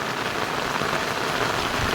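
Heavy rain pours down steadily in a dense, even hiss of countless drops drumming on a surface, close and loud throughout, with no voices.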